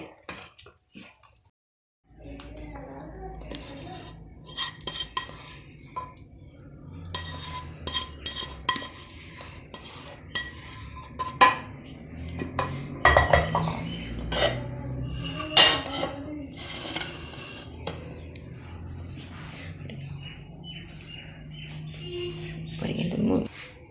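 Chicken Manchurian is served onto a dish with metal utensils, giving repeated clinks and scrapes against the pots and plates, some splashing and dripping water, and someone talking over the kitchen clatter.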